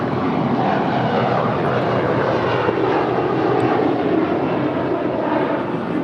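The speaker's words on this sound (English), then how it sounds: "This is Horizon Air Flight 2321 departing to Seattle. It's a 4-year-old Embraer E175." A four-year-old Horizon Air Embraer E175 jet departing, with a steady, loud engine roar that holds evenly for about six seconds and has no voices over it.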